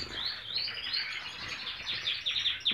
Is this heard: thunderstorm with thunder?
no